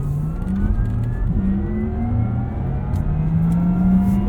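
A 2023 Porsche Taycan Turbo electric car accelerates hard on a track, its rising whine climbing steadily in pitch over road and wind noise, loud and close from inside the cabin.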